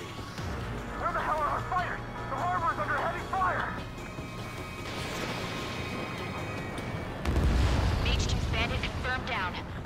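Missiles strike and explode during an Ace Combat 7 air battle over a harbor, rumbling blasts building to a loud heavy impact near the end, with radio chatter voices talking over them.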